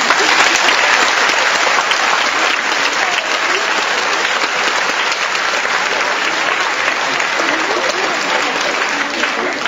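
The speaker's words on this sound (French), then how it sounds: "Je vous demande encore de leur faire un applaudissement." Sustained, dense applause from a theater audience at a choral singing competition, loud and steady throughout with no voices over it.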